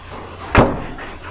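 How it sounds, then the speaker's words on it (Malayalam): A car bonnet is slammed shut once, a single loud close thud that fades quickly against a quiet background, with no talking. "ബോണ്ടും കാര്യങ്ങളെല്ലാം അടയ്ക്കാം"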